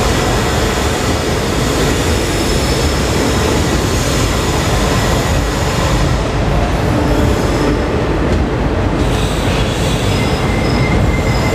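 The Mumbai Jabalpur Garib Rath Express runs at speed in a loud, continuous rumble of wheels on rails with rattling and screeching, heard from on board.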